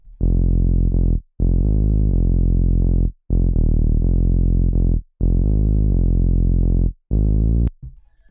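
A buzzy, distorted saw-wave synth bass for tech house, run through compression and distortion, plays sustained low notes in a chopped rhythm, with short gaps between phrases and a brief glitchy tail at the end.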